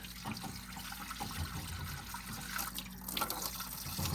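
Coolant from a seized 1965 Triumph TR4 engine runs out in a steady, close trickle and splash, with a brief louder gush near the end.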